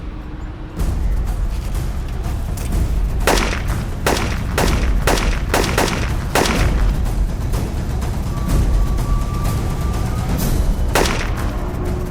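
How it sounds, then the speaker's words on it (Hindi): A string of sharp gunshots cracks out in irregular bursts, some in quick succession, over a constant rumbling background. "अरे मैं कवर फायर करता हूँ, तू जा।"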